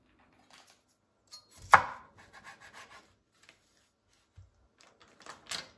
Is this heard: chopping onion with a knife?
yes